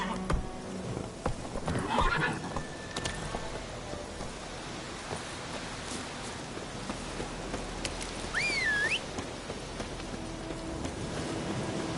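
Roach, a horse in The Witcher 3 video game, whinnies loudly near the start, then trots with soft hoof clops through steady rain; a second brief neigh rises later, with no talking.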